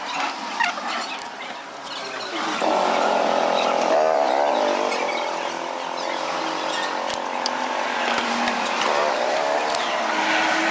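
A motorcycle rides along a road in Shimultala, Bihar, its engine droning loud and steady with rising revs after a brief lull, with wind and traffic noise around it.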